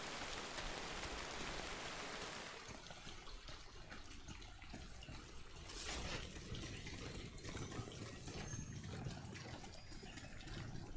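Steady rain in the video game Death Stranding, a dense hiss of drops pattering on surfaces that continues without a break, fairly loud and close, with no talk over it.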